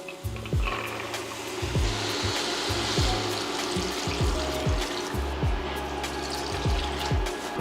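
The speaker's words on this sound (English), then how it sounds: "Now we're gonna add our beans and then we're gonna add our water." Water is poured into a pot of rinsed beans for Louisiana-style red beans and rice, a steady splashing fill heard close up with repeated low thumps and knocks underneath, no talking.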